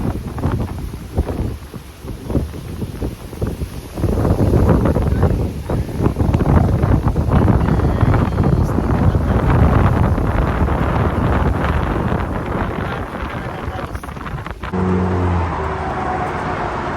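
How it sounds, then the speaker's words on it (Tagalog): Strong wind at a lake roars and buffets the microphone in heavy, continuous gusts, loud and rumbling throughout, easing briefly near the end. "ang lakas ng hangin"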